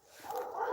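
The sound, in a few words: dogs barking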